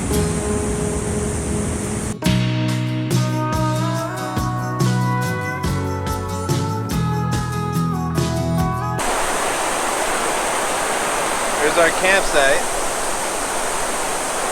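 Rushing water near the Havasu Falls campsite makes a steady, loud, broadband roar in the final few seconds, after a stretch of music, with a voice speaking briefly earlier.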